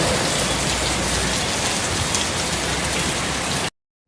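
Heavy rainy-season downpour in the late afternoon makes a loud, dense, unbroken hiss close by, then cuts off abruptly into silence just before the end.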